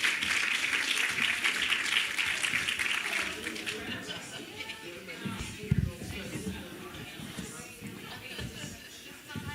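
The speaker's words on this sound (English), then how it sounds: "Let's give them a round of applause." At a women's forum conference, an audience applauds as panelists come on stage. The clapping is loudest at the start, then fades while chatter and footsteps carry on.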